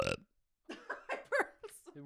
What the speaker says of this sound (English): I have to burp again.